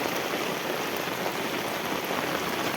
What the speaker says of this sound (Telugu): ఈ డ్రైనేజీ అంట వచ్చే నీళ్ళండి పైపక్క పొలాల ఊడిపూడతారండి ఆ పైపక్క వాటర్ అంతా ఇలా వచ్చేస్తుందండి